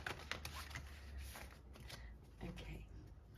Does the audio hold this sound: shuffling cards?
yes